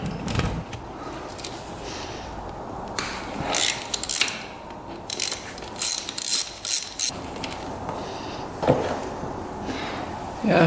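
Wrench removing the 12 millimeter oil drain plug on a 1992 Yamaha YZ250 dirt bike, close intermittent ratcheting clicks and metallic turning in short bursts, no talk.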